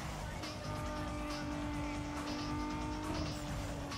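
Racing cars in the video game Need for Speed Underground 2, with a loud, steady engine roar, tire squeals and skids running throughout and no break.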